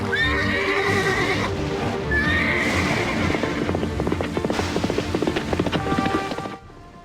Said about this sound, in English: summoning a magical horse